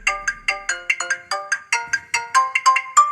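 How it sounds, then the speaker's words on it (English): A bright electronic ringtone plays a repeating melodic pattern of short chiming notes, loud and clear with no talking. "What about custom ringtone?"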